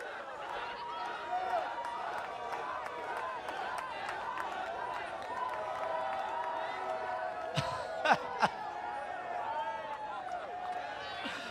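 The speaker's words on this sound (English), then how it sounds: "The fans behind us, the fans in front of us are really just, they're cheering on these competitors." Fans cheering on runners in a celebrity non-alcoholic beer mile race, a continuous crowd murmur with whoops and scattered claps, a few sharp bangs late on and people talking throughout.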